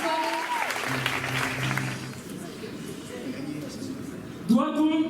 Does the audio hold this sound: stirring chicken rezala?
no